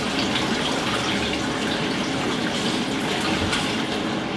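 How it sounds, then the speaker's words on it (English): Cold tap water runs steadily in a kitchen sink as vegetables for minestrone soup are washed, a continuous close splashing hiss with no talk. "Then we're going to give them a good wash under cold running water."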